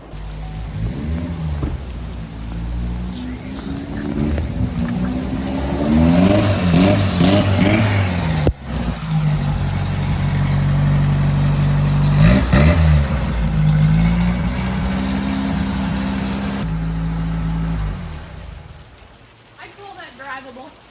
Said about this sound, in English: I just pulled up to the shop and I hear some kind of motor running in Caroline's shop.